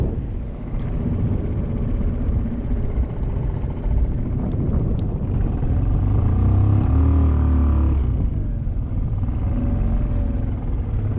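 A fishing boat's engine runs out at sea amid big waves, a loud steady low-pitched drone with wind and water noise mixed in.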